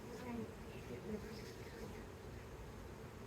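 A swarm of honey bees buzzes in a low, steady hum during a hive inspection, with a few louder passes of single bees close by.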